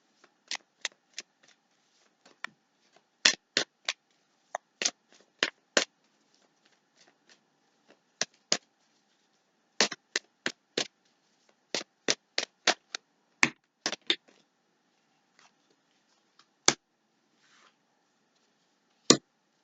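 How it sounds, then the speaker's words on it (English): Tarot cards are shuffled by hand close up in a quiet room, sharp riffling snaps in irregular clusters separated by pauses, crisp and distinct with no voices. "A couple more shuffles, and we'll see."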